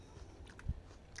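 Someone bites into a freshly picked, not very hard apple from a summer garden, a soft close crunch followed by quiet chewing, faint and brief in a low-level background.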